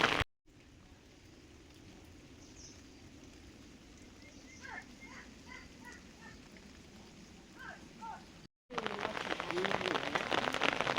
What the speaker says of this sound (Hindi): बारिश रुकने का नाम नहीं ले रही